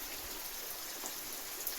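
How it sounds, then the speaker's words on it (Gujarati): Steady rain falling outside a home in a rural farming area during the monsoon, a soft continuous patter of drops on surfaces with no voices, even and moderately quiet throughout. "ઘરે આવી ગયા છું ને વરસાદ પડવાનું પણ પાછું ચાલુ થઈ ગયું છે।"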